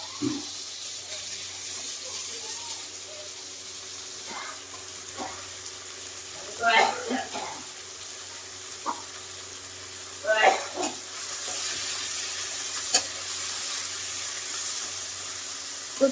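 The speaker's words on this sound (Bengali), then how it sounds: "পেঁয়াজটা একটু ভাজা ভাজা করে নিলাম" Onion, tomato and green chili frying in a pan, a continuous sizzle with a few louder bursts of crackling and clinks of a utensil; a person speaks at times over the cooking.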